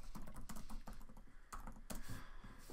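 Text being typed on a computer keyboard, a quick, steady patter of soft key clicks heard close and faint, with no talking.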